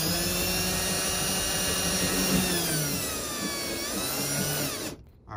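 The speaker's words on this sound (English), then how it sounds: "we can start to drill out the pilot holes" A power drill bores pilot holes through a plastic surface to mount a Molle panel, a steady high-pitched whine held for about five seconds that dips slightly in pitch before cutting off abruptly, close and loud with no talking.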